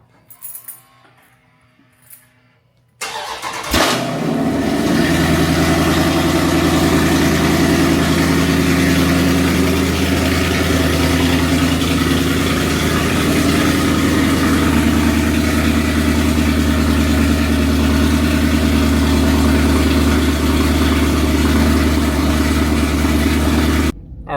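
A car engine cranks for a cold start in Florida after a few quiet seconds, catches, then settles into a steady, loud idle that runs on with a constant low rumble.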